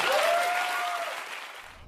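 A studio audience claps in a loud, dense, steady round of applause with a brief whistle near the start, gradually thinning and fading out over about two seconds.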